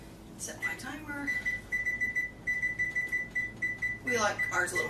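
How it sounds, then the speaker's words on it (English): A kitchen timer is set while communion bread bakes, giving a steady run of evenly spaced, bright, close beeps for about three seconds, with a person talking just before and after. "Set my timer."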